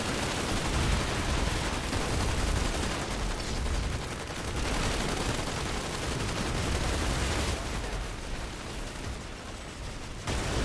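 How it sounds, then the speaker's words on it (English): Rockets lobbed in Planetside 2 amid a heavy firefight: a continuous wash of gunfire, blasts and mechanical clatter, loud and unbroken for about ten seconds, with no talk over it. "I decided I'm just going to start lobbing rockets to hopefully get some of these maxes taken out"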